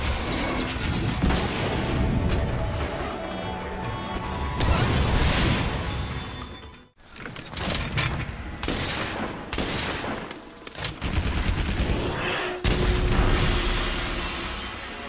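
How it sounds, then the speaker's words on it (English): A gunlance in Monster Hunter World fires explosive shells in booming blasts, loud and dense, with several heavy bursts and mechanical clanks spread across the span and a brief lull midway. "its ability to fire off bone-breaking shells to blast a monster"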